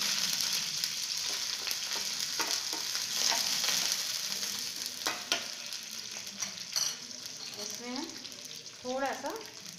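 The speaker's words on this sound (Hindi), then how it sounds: "और ये सफ़ेद तिल, इसमें हम हरी मिर्च डाल देंगे और ये करी पत्ता, सबको अच्छी तरीके से चला लेंगे" White sesame seeds, green chillies and curry leaves sizzle and crackle in hot oil in a pan while being stirred, with scraping stirs and soft pops at close range. A voice speaks faintly toward the end.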